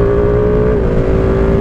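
A Ducati Panigale V2 motorcycle engine drones steadily and loud while the bike is ridden, a close, continuous sustained note with no talk over it.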